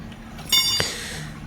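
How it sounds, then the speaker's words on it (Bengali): A sharp metallic clink rings out as the cut clutch setup nut is undone on a TVS Star City Plus motorcycle. One bright tap is followed by a second, duller knock a moment later, close by, against a quiet background. "ক্লাচ সেটআপের যে নাটটা আছে, কাটা নাটটা খুলছি।"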